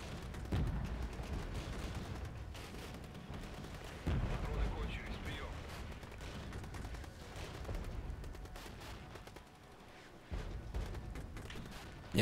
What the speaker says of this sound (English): Advance under artillery.